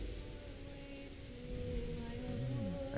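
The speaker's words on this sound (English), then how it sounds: "And it's raining." Steady rainfall in the video game Hades II, a soft, even hiss of drops that swells slightly midway, with a low tonal music bed underneath and no speech.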